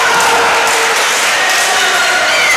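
A basketball crowd at a men's college game roars and shouts in protest for a foul call, a dense, loud wash of voices and some clapping lasting a couple of seconds.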